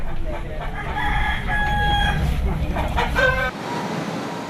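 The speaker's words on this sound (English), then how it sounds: "There are some roosters too. They'll be used for cockfighting" Roosters kept for cockfighting in East Timor crow among other fowl, their calls rising over a heavy low rumble of engine and crowd noise near a port, then cutting off abruptly.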